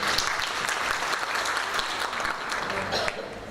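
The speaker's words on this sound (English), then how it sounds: "Give yourself a round of applause." An audience at a Women's Day celebration in Durban claps in a sustained, dense round of applause, with some voices mixed in and the noise easing slightly at the end.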